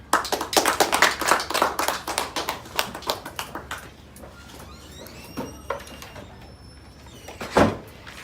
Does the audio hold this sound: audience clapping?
yes